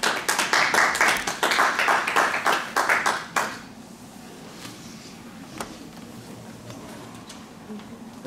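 An audience at the end of a library lecture in Domžale on building a family tree claps loudly for about three seconds, then the applause stops abruptly and leaves a quiet room with faint scattered noises.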